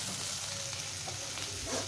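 Spices frying in a pan of oil for a lentil-head (bele much) jhal, giving a steady, close sizzle throughout with faint stirring.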